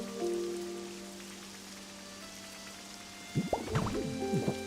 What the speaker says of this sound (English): Yay, it's raining more and more.